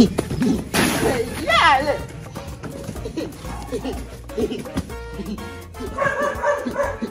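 Several dogs bark and yip in quick, uneven bursts close by, with a whimper mixed in and people talking over the commotion.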